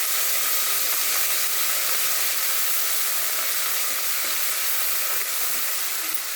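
Turmeric and ginger-garlic paste frying in hot oil for a mutton and bottle gourd curry, a loud close continuous sizzle and hiss with faint stirring scrapes, no talking.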